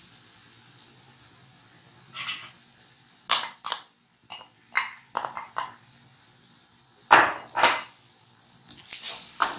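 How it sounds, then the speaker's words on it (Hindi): Beaten eggs mixed with green coriander and green chili poured into a pan for khageena, giving scattered clinks of utensil on pan and scraping stirs over a quiet background, with a few sharp metallic knocks. "ये अंडे जो हमने फेंट के रखे थे हरा धनिया हरी मिर्च के साथ, ये हमने इसमें सारा इस तरह से ऐड कर देना।"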